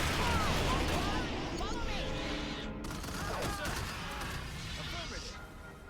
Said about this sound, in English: Plasma launch.